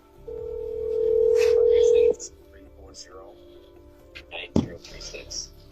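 A steady telephone dial tone hums for about two seconds while a call is being placed, then cuts off, leaving quiet room sound with soft, indistinct voices.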